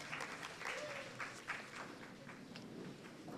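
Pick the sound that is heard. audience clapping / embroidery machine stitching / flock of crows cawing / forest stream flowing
audience clapping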